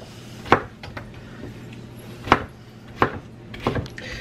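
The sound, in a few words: knife slicing pineapple into pieces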